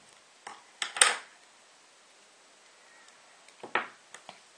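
Insulating tape being pulled and snipped into a long strip, a couple of short close rips and crackles near the start, a quiet pause, then another tearing burst and small taps.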